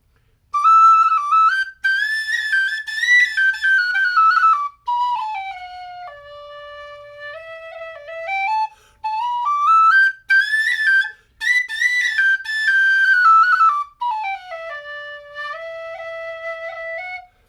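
A high D tin whistle by Milligan plays a lively melody, bright and loud, with quick ornamented notes and short pauses between phrases.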